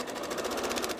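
Sewing machine running steadily while stitching quilt fabric for a geese-pattern quilt, a close, continuous buzzing hum with fast rhythmic needle pulses throughout.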